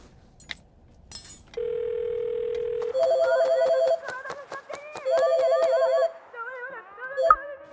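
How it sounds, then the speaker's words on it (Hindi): A phone's disconnected or dial tone sounds as a steady electronic beep, then repeats in pulsed bursts over a cartoonish music-like melody, with a short clatter at the start. "वो एक्चुअली फोन अभी कट हो गया, आई थिंक नेटवर्क चला गया था शायद।"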